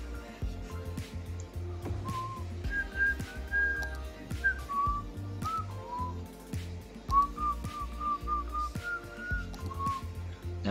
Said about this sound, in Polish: Dobra, nie będę tutaj gwizdać, bo zaraz do mnie przyjdą.